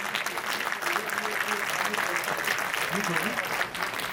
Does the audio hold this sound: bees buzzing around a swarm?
no